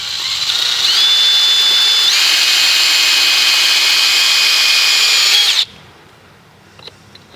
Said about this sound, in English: I'm going to drill the hole in the mortar,